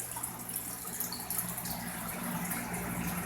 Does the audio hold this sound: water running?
yes